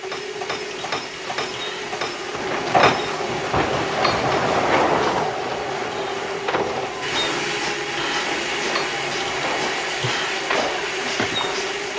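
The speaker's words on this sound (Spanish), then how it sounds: "un tren de pasajeros llegó al sur de Polonia luego de un extenso camino a través de los entramados ferroviarios" A passenger train rolls along railway tracks in southern Poland, a steady continuous rumble with repeated clickety-clack wheel beats and metallic rattles, fairly loud and with no voices.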